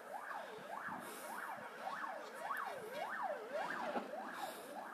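A fire engine siren wails, rising and falling in a steady repeating cycle, moderately distant, sounding continuously on its own while approaching a large fire in Chyshky.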